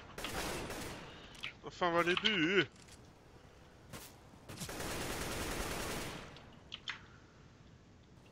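Gunfire crackles in the video game Counter-Strike: Global Offensive, brief bursts of shots mixed with game sounds while players talk and react.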